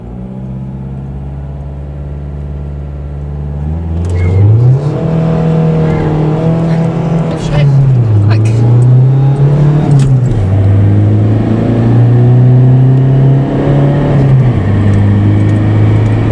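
A Toyota Corolla drives past at a Japanese car show, its engine rising and falling through several loud revs, rumbling close by as people talk nearby.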